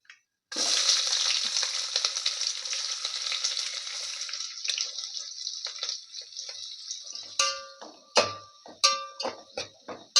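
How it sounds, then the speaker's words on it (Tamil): Sliced onions dropped into hot oil in a pan for coconut milk rice, a loud sudden sizzle that settles into steady frying, then scraping and clinking of a spoon stirring against the pan. "வந்து வெங்காயம் சேர்த்துக்கலாம்."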